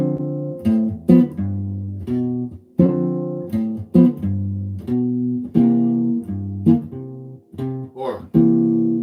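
Plucked chords strummed in a choppy, syncopated rhythm, with accented hits landing off the beat before the harmony shifts; clear and close, no talking.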